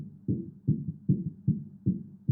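Drums miked with a Shure SM57 play a steady, muffled low thump roughly every 0.4 seconds, six soft hits, dull and bass-heavy like a kick pattern, with no voices.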